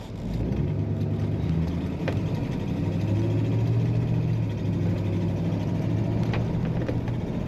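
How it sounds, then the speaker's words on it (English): A 1958 Cadillac Series 62 Hardtop Sedan with automatic transmission idles smoothly and steadily, its low, even engine hum close and continuous with no talk over it. "A very smooth running Cadillac, as usually they are."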